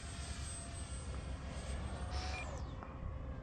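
An RC thrust tube jet plane holding 50% throttle gives a steady, loud turbine-like whine and roar with a broad rushing hiss, rising slightly in pitch as it sweeps past, with no voices.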